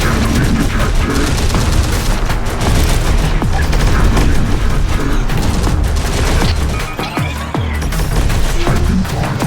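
Dense, loud gunfire fills a Terminator: Dark Fate - Defiance battle, with continuous overlapping shots and heavy booms, plus a few sharper bursts later on.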